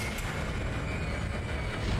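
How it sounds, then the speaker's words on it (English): A tram car in Dead Space rumbles along with a steady, loud, unbroken mechanical drone and a faint high whine above it, with no other sounds standing out. "The tram is blocking the whole system."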